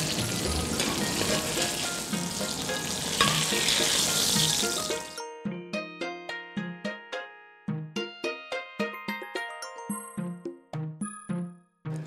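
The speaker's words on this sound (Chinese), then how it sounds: "小葱、青红线椒，然后蒜片、干辣椒，把它爆出香味来，从羊肉上一倒" Hot oil with scallions, green and red chili, garlic slices and dried chili poured over lamb gives a loud, hissing sizzle for about five seconds, then falls away to plucked music notes.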